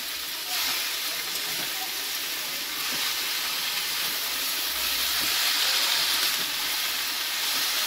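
Fresh leafy saag hitting a hot pan in a home kitchen, giving a loud, steady broadband sizzle and hiss that swells slightly and holds throughout.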